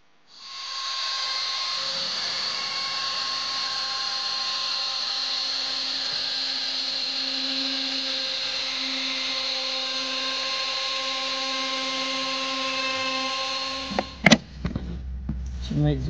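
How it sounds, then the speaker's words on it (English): A router cuts spacer grooves into teak strips for boat locker lids, a steady high-pitched whine with a continuous hiss running about thirteen seconds before stopping, followed by a few sharp knocks and handling clatter. "we now set about routing the teak strips that will sit inside of that frame"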